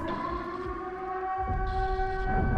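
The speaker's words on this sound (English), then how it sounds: "We get the air raid siren." A steady, droning air raid siren in Silent Hill 2 Remake wails continuously, holding a sustained pitch with a low rumbling background, loud and close throughout.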